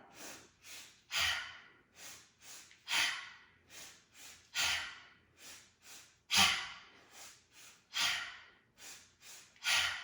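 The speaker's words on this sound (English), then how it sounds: "And then a big forceful exhale as you pull your elbows back." Forceful breathy exhales from a yoga breathing exercise come one after another, each a sharp close gust fading out, with quieter inhales in between and no talking.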